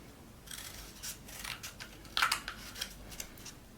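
Scissors snip a V shape into crab claws, a quick series of crisp close cuts and clicks over a few seconds, quiet and alone.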